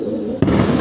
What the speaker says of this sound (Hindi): देखिए उड़े फटाके से, कबूतर उड़ गए।